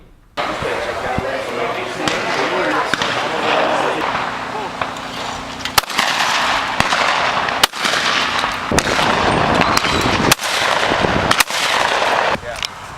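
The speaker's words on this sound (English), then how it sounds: "You've got hundreds of people with hundreds of shotguns at the same location." Hundreds of shotguns fire at once at a single location crowded with men, women and children. Sharp bangs ring out repeatedly, near and far and at uneven intervals, over a constant roar of crowd noise and distant shooting.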